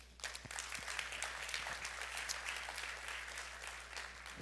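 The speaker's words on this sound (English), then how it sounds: "give you a round of applause" Keynote audience at a tech conference breaks into a round of applause, a dense, even patter of clapping heard fairly quietly and at a distance, holding steady throughout.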